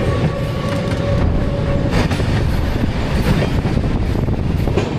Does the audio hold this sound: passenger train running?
yes